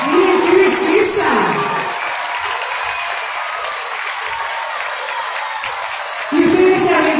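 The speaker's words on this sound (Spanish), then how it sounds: "El aplauso bien fuerte" Loud, sustained applause from a large crowd of students and teachers at a flag loyalty ceremony, with bursts of cheering and voices rising over the clapping.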